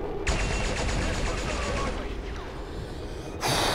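Turret gunfire in XCOM 2 sounds as a rapid, sustained burst of shots with a loud crack at the end, mixed with background game noise and a voice.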